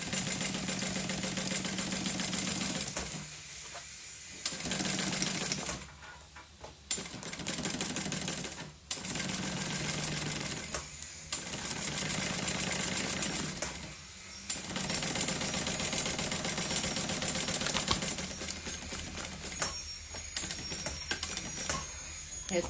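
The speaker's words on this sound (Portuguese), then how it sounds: "Vou fazer a costura aqui" A sewing machine stitches a document holder in fabric, running in loud rapid bursts separated by brief pauses, with a short back-stitch at the start and end of each seam.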